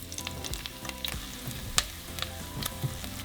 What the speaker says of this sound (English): we're going to throw in our onion and 3 garlic cloves. And we're just going to saute them for about 3 minutes.